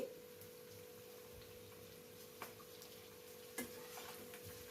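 Chopped bitter gourd fries in oil, a faint steady sizzle with a couple of soft stirring knocks.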